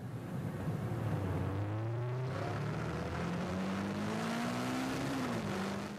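A police-escorted motorcade of cars crosses an intersection, a continuous engine drone with rising and falling pitch sweeps as vehicles accelerate and pass, steady and fairly close throughout.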